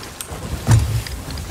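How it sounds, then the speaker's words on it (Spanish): Thunderstorm in a pirate sailing video game, with steady rain hiss and a single low rumbling thunder roll in the middle, moderately loud with no talk. "mira cómo caen los relámpagos por ahí"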